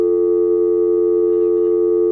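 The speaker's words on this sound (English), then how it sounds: "I had a dial tone there for a minute" A steady, unbroken telephone tone hums on a call-in radio show's phone line, holding at an even loudness for about two seconds with nothing else over it.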